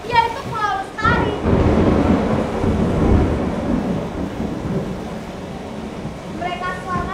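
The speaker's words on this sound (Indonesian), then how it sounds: "Badai menerpa." Theatre storm effect for a children's musical stage show: a broad, loud rumbling wash of thunder and rain that swells and holds for several seconds, with children's voices heard briefly at the start and end.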